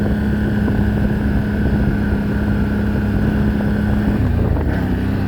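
A 2023 CFMOTO 1000 Overland engine drones at a steady loud idle under wind noise, then dips and wavers near the end as it sputters and nearly cuts off.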